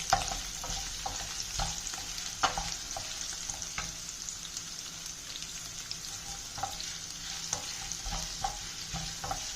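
Garlic fries in oil in a pan for a toor dal pachadi, a steady soft sizzle dotted with frequent light clicks and taps of stirring, close by and without speech.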